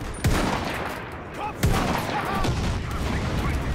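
Gunfire in the World War II shooter game Enlisted, a few sharp, loud shots with booming tails against a rumbling battlefield background, alone with no talk.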